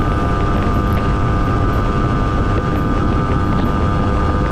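GT300LC motorcycle engine cruising at 72 mph, a loud continuous drone with steady tonal hum buried in heavy wind rush, unbroken throughout.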